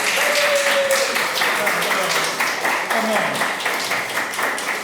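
An audience at a project overview presentation breaks into steady, moderately loud applause that fills the room, with a brief spoken remark over the clapping.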